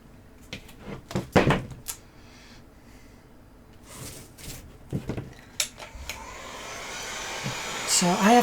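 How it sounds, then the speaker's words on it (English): A hot air gun blows on its minimum temperature setting while a sword is being made. Clattering and knocking come first, then a steady broadband whoosh swells and grows louder toward the end. "my hot air gun has temperature settings"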